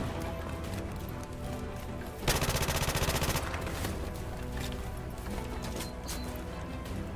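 Hip fire from a P90 submachine gun in Call of Duty, a dense burst of rapid automatic shots lasting about a second, loud over a continuous game background of music and ambient noise.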